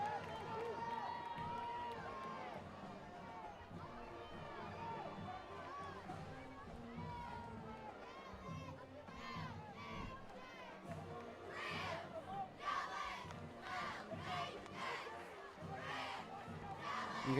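A high school football crowd at a Lakeside Rams versus Camden Fairview game murmurs and shouts continuously, with a commentator talking over it and rising bursts of yelling toward the end.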